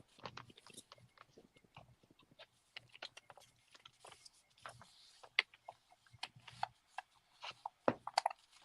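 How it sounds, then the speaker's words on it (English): Paper is scored and folded along a line at a crafting table, giving soft scraping, rubbing strokes and small sharp ticks and taps. The sounds are close and fairly quiet, with no talk. "you're going to fold this one into the line and score it."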